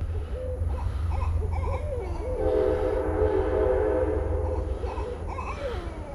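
Train passing near a small creek, its horn sounding in several hoots over a loud steady rumble of rail cars, no talk.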